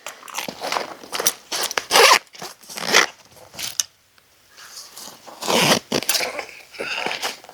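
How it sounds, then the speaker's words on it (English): The external side zipper on a Savotta Jaakari backpack is pulled in a series of quick, rasping zips, close up, with a brief silent pause midway before more strokes. "We have an external zipper."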